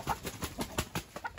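Chickens cluck faintly in a short burst of repeated, evenly spaced calls from backyard fowl while a snake attacks the birds, heard at moderate distance with no talk over it.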